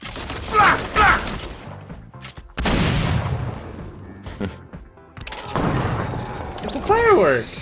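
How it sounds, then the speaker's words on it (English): Firework exploding in the Fortnite video game: several loud, booming bursts and crackling blasts, heard under and between excited players' voices. "a firework!"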